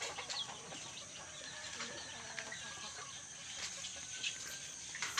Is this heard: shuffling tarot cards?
no